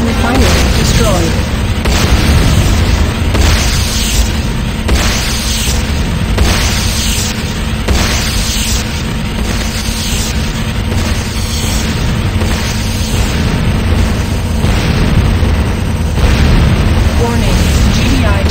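Heavy repeated explosions as a GDI Tiberium refinery is destroyed in the Renegade video game. Loud, continuous booming blasts and bursts, dense and close, with announcer voice warnings layered over the din.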